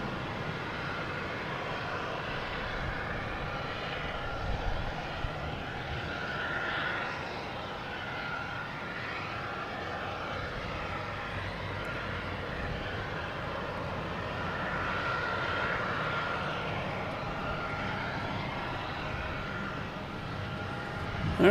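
A Delta Embraer E175 regional jet arriving at Boston Logan Airport from Norfolk, a steady broad engine roar that swells gently and holds at a moderate distance throughout, with no talking.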